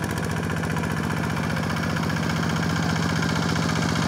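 A rice field tractor engine idles close by with a steady, even chugging throb and continuous vibration, loud and unbroken throughout.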